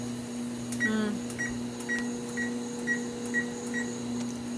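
Keypad buttons on a cooking timer chirp one after another as they are pressed to set ten minutes for boiling milk, about eight short evenly spaced beeps over a constant appliance hum.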